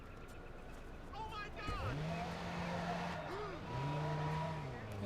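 A car in the Watch Dogs video game revs and pulls away, with rising engine tones and some tyre noise at moderate volume, while a person talks over it.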